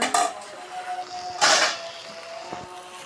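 Potato greens being stirred with turmeric and salt in a pan: a couple of distinct metallic scrapes and clanks of a utensil against the pan, with quieter shuffling between them, close and clear.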